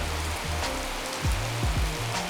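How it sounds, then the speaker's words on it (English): Rain falls steadily outside, a continuous even hiss of drops on surfaces that stays at the same moderate level throughout, with no voices. "Well, there's that rain I was talking about."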